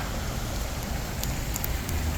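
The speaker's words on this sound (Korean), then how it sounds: "어제 비가 와서 지금 아주 맑은 물이 이렇게 흘러내려가고 있습니다." Clear water flowing down through a landscaped park beside an apartment complex the day after rain, a steady broadband rush with no breaks, moderately loud and with no talking.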